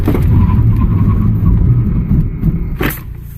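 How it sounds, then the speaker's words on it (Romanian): A loud Dacia Jogger 1.0 TCe engine roars and then drops away as the car, loaded with seven people, brakes hard from 100 km/h with ABS engaging, ending with a short screech and a sudden quieter moment. "A frânat bine, a intrat ABS-ul."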